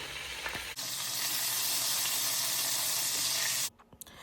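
Mustard seeds, asafoetida, cumin and curry leaves hit hot oil for a capsicum masala curry, setting off a loud, steady crackling sizzle that runs for a few seconds and then cuts off abruptly.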